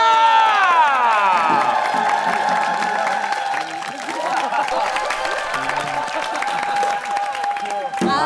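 A large television-studio audience at a Korean variety show cheers and claps loudly and steadily, with shouts and whoops rising over the crowd noise, while a sustained sung or instrumental tone carries through alongside it.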